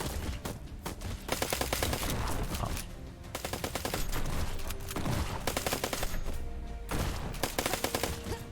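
Turret gunfire in the video game Black Skylands rattles in dense, rapid bursts, loud and nearly continuous with brief gaps.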